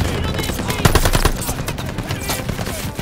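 Machine-gun fire rattles in Call of Duty: Vanguard's Operation Tonga battle, loud close bursts of rapid shots layered over constant combat din, with shouting voices mixed in.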